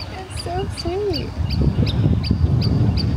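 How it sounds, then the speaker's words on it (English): A loud bird calls repeatedly beside a bridge on an outdoor walk near Anchorage and Portage, Alaska, with sweeping whistled notes followed by a rapid series of sharp chirps over steady wind and ambient noise. "Jinkies, you a loud bird."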